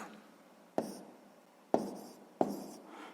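A pen writes numbers on paper while working a sixth-grade maths exercise; three sharp, quiet strokes land about a second apart, each tailing off briefly, with no voices.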